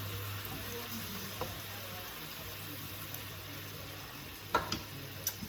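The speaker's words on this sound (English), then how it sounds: "I'm going to pop my chicken back into the broth now, as it is. And turn it down, because I just want it to poach gently." Chicken thighs poach gently in a pot of simmering broth for Asian-style chicken, giving a soft, continuous bubbling hiss with a few louder pops near the end.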